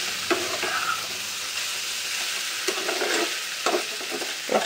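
Food fries in a pan with a steady, fairly soft hiss and sizzle, punctuated by a few stirring scrapes and light taps, close by and with no voices.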